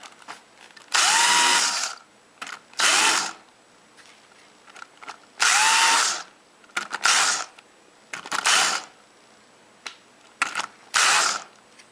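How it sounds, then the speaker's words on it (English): A power drill fitted with a countersinking bit bores countersink holes in wood while a woodworking vise is installed. About five loud, close whirring bursts of roughly a second each are separated by quiet pauses. "to make the countersink, I'm just using a countersinking bit"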